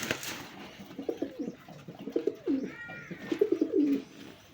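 Native Bangladeshi deshi and raj golla pigeons, a male and female offered for sale, coo in low rolling phrases, close and fairly loud, with a brief higher chirp midway and no talking.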